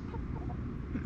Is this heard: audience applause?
no